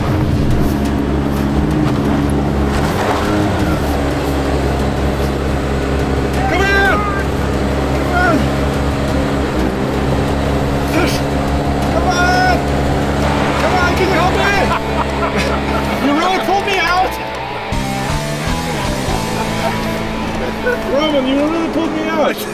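Jeep Compass driving off-road up a hill, its engine droning steadily and loudly while people talk over it, with bumps and clatter toward the end.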